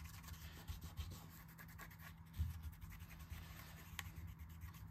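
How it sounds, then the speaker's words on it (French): Quiet, close rubbing and scraping as leftover glue is cleaned off an iPhone's metal back plate after the rear glass has been removed, with small repeated strokes and one slightly louder scrape. "Maintenant, je vais faire le nettoyage de la plaque métallique."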